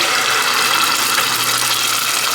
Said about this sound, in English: I do use a little water to get this part out.